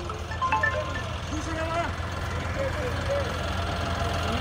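John Deere tractor engine idling, a steady low rumble close by that runs throughout, with people talking over it and faint whistling tones drifting above.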